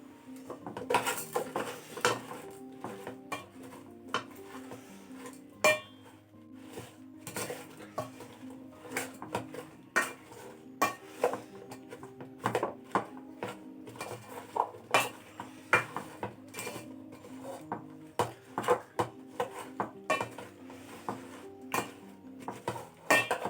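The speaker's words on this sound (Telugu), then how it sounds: "ఆయిల్ మేనేజ్ చేసేస్తున్నానండి మొత్తం కలుపుతున్నాను" A spoon stirring okra tamarind curry in a metal pot, with frequent clinks and scrapes against the pot repeating irregularly throughout, close and fairly quiet, with no talk.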